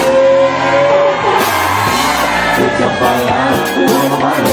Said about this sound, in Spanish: Señores, un grito fuerte, un grito, un grito, un grito.